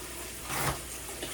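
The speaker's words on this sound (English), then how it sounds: "Let me let the water run a little bit so I can get the hot." Hot tap water runs steadily into a kitchen sink, a soft broadband rush that swells briefly in the middle and then settles, with no talking.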